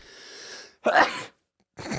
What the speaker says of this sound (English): I was so nervous that I was going to sneeze